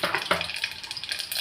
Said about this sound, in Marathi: मोहरी तडतडली की जिरं टाकायचं